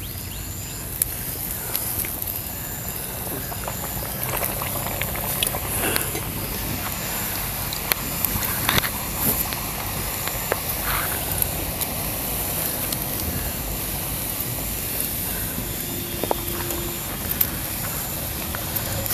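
Dahi dhapate flatbreads frying in hot oil, with a steady, broad sizzle and occasional small pops and crackles throughout.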